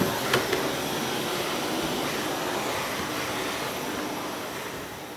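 Steady vacuum cleaner drone as someone hoovers dog hair off a household floor, a continuous broadband whir holding at a constant level from start to finish with no talk.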